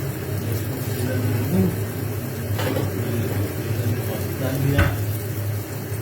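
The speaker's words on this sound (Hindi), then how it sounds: "और मसाले हमारे भून रहे हैं।" Spices frying in oil in a pot, a steady close sizzle with scraping stir strokes from a spoon against the pot, continuous and fairly loud, with no speech over it.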